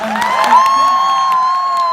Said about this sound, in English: everyone should just give them a round of applause